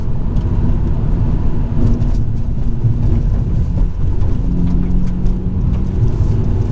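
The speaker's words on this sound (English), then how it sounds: "there's quite a lot of mechanical noise, turbo noise" A Hyundai i20N being driven gives off loud, steady mechanical drone and turbo whir from inside the cabin, a constant low rumble throughout with no talking.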